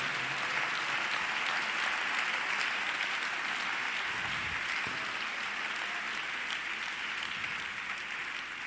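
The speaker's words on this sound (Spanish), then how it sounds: "Un aplauso para nuestro Dios." A church congregation gives sustained applause during a worship service, a dense, steady wash of clapping filling the room for the full length without a break.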